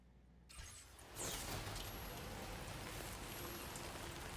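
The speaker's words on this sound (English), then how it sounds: "The timefall destroys everything, so don't leave your vehicle out in the rain." Timefall rain in the video game Death Stranding 2 starts after a quiet moment and builds into a steady, dense hiss of rainfall that stays constant and fairly soft.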